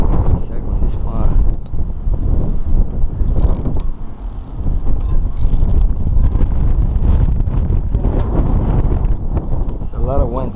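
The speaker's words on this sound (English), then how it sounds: "It's a lot of wind today." Strong gusting wind buffets the microphone outdoors during a roof glass installation on a 2014 Land Rover Evoque, a loud, continuous low rumble with bursts of mechanical clatter and people talking over it.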